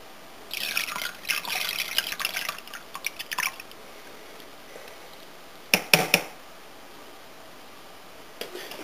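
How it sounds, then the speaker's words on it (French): Lye poured into mixed oils and lard for soap making makes a run of small liquid splashes and clinks early on, then sparse wet drips and a few sharper utensil knocks, fairly quiet with no speech. "Donc maintenant je peux verser la soude dans les huiles."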